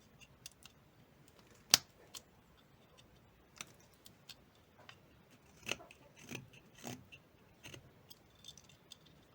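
Scissors cutting while a mushroom is sculpted: sparse, faint, close snips and small clicks scattered unevenly, with quiet stretches in between and no talking.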